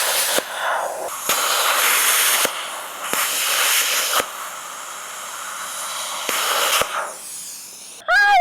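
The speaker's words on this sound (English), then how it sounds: "I'm testing out plasma cutting today because I have never done it before" A plasma cutter slicing metal gives off a harsh, crackling hiss in several bursts, each a second or two long with short pauses and sharp clicks between them, ending in a brief electronic beep.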